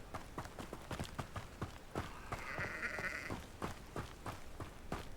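A sheep bleats in Hogwarts Legacy, one drawn-out bleat standing out over a steady run of sharp footstep-like clops, fairly quiet and close.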